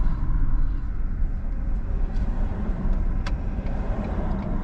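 A car drives slowly around a full parking area, its engine and road noise forming a steady, close low rumble throughout with no talking.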